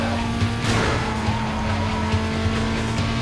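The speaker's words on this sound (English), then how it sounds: "Suspect is driving a blue Lotus." A blue Lotus races at high speed while fleeing police in a video game chase, with a loud, steady engine roar, a brief whoosh near the start and tire noise, and no talk.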